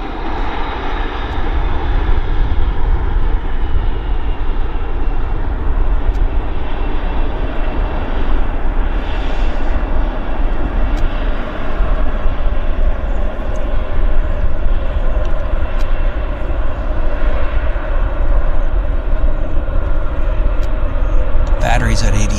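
An airliner lands at Vancouver Airport at sunset with its thrust reversers deployed, a loud, sustained engine roar and rumble holding steady throughout, with a sharp noise near the end.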